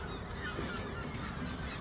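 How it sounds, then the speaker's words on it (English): A goose honks and squawks harshly on an outdoor spring walk around Huncoat, Lancashire, a continuous loud, rough call that fills the whole stretch with no talk over it. "that's an awful sound, that's just squawking, isn't it?"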